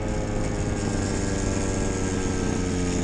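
A Goped scooter's small two-stroke engine drones loudly and steadily at high revs while being ridden, with a buzzy, mower-like tone and no talk over it.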